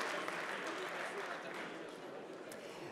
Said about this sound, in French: Bravo messieurs, je crois qu'on peut vous applaudir